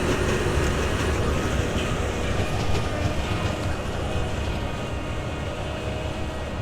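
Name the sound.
sugar beet harvester elevator loading the trailer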